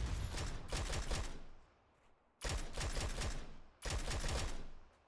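Gunfire in the PUBG Mobile video game comes as three dense bursts of rapid automatic shots, loud and close. Short pauses separate the bursts, with no talk over them.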